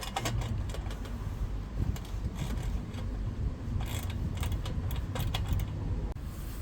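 Metallic ratcheting and clicking from a wrench tightening a bolt and nut with washers on the lower exhaust mount of a Yamaha YB100 motorcycle, steady close-up mechanical chatter.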